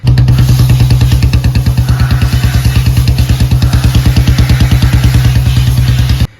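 Royal Enfield Bullet BS6 motorcycle idling close by, a steady, loud single-cylinder thump that keeps an even rapid beat for about six seconds and then cuts off.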